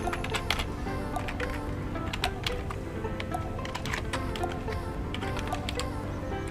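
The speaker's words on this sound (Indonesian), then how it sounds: "Kita ketikkan dokumen write." Rapid, irregular keystrokes clatter on a computer keyboard as JavaScript code is typed, a dense run of close, crisp clicks over a faint steady hum, with no voices.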